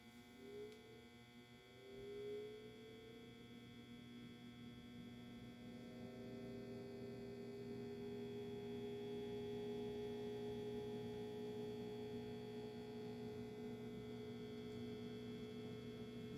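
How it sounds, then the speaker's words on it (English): A Lasko 3733 box fan from 1998 or 1999 with an out-of-balance blade, its motor humming steadily with a low, even drone and a faint tonal whine, running alone without any voices. "This one has a really nice motor sound to it"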